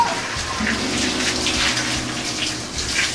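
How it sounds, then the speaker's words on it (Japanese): A push-button waterfall shower at a Japanese sauna pours a steady, heavy stream of water, a loud, continuous splashing gush lasting several seconds. "ここにシャワーじゃなくて滝があるよ。 ここのボタンを押すと15秒出てくるよ。"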